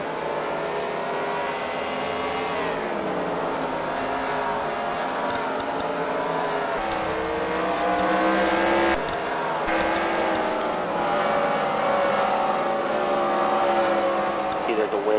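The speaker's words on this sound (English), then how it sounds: "these cars are still running lap by lap without any incident right now" Race cars run laps at the Freedom Factory track during a CWRL Fight Night main event, engines rising and falling as cars pass, with tire noise and a commentator talking throughout.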